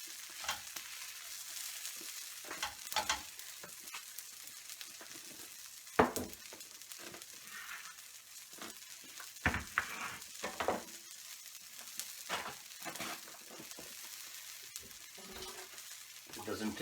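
Besan cheela, a spiced chickpea-flour pancake, frying in a hot pan with a soft steady sizzle, punctuated by scraping and tapping of a spatula as it is flipped, while someone talks over it.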